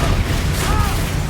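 A fiery Confringo blast spell fired in the Hogwarts Legacy video game, heard as a loud, dense burst of roaring noise with a low booming rumble that carries steadily through the whole moment.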